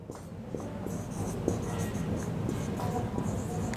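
A pen scratches across paper in a political science class, a continuous rustling scrawl with small taps and strokes that stays close and moderately loud throughout.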